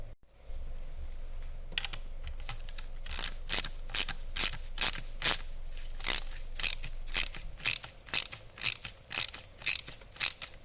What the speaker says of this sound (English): After you get them all started by hand, you can go ahead and tighten them down.